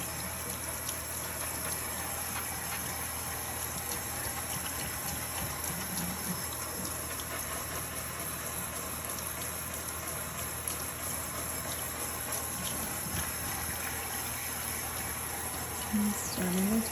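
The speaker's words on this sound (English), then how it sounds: "While I'm washing it out." Steady rushing water from a spray rinsing out an Ikonart stencil, a continuous broadband hiss that stays even and close throughout with no talk over it.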